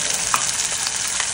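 Paneer gravy with ground masala paste frying in a pan gives off a steady, dense sizzle that stays close and even throughout, with a few brief pops and stirring scrapes.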